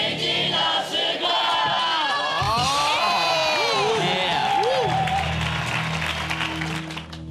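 A studio audience at a Taiwanese variety show claps and cheers loudly as a magic segment begins, with whoops and shouting voices rising over continuous applause for several seconds.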